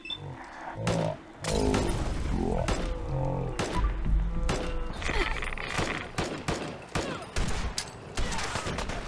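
Radium rifle gunfire in Fallout 4, a rapid string of loud, sharp cracks in uneven bursts with thuds and impact noises between them, close and dominant, with occasional voices underneath.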